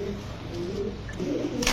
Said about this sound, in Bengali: এটা কি কবুতর ভাই? এটা কোবরা টেডি ভাই।